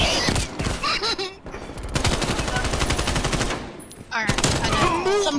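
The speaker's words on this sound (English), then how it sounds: "I'm getting shot at." Rapid automatic gunfire in Black Ops Cold War, dense bursts running through most of the stretch with a short pause, loud and close, sometimes under other game sounds.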